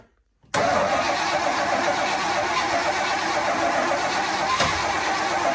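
A 1985 Chevy Suburban C20 engine starts up after a short silence, then keeps up a loud, steady, rumbling idle close by.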